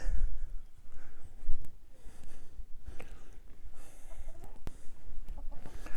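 Young hens cluck in short, scattered bursts over a steady farmyard background, close by and moderately loud, with no talking.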